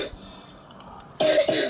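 Two sharp coughs close together, near and fairly loud, following a quiet stretch of low background murmur.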